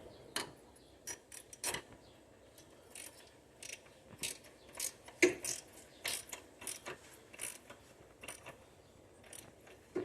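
A socket wrench ratchets in quick, sharp clicking bursts as an oxygen sensor is tightened, the strokes coming at an irregular pace, close and clear against near silence.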